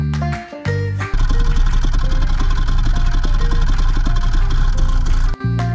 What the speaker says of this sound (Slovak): keď auto stálo a motor bol ešte studený, chod motora bol takýto